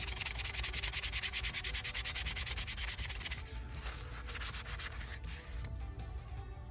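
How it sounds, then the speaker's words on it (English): A glittering epoxy resin pen is sanded by hand, with fast, even back-and-forth rubbing strokes, close and clear, that loosen and slow partway through and continue alone. "I'll try to sand and take this words off of here and just do a sand through the whole pin"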